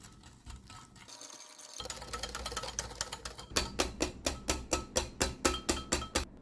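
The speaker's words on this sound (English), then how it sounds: "I'm going to whisk it until it is thickened and pale" Whole egg, yolk and sugar whisked in a bowl, starting with irregular scraping and building into a fast, steady run of sharp rhythmic whisk strokes against the bowl, close and fairly loud.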